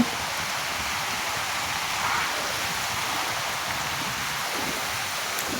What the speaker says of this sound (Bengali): বৃষ্টি দেখো বৃষ্টি।